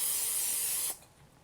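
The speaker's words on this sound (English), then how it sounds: "I'm going to spray it with a little bit of cooking spray" Cooking spray hissing from a can onto a baking pan for green bean casserole, one steady close spray just under a second long that stops abruptly, followed by quiet.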